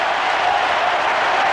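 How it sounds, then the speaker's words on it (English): Steady, dense applause from a large cricket stadium crowd at Eden Gardens, Calcutta, a continuous wash of clapping and crowd noise with no breaks. "And the crowd erupts in applause."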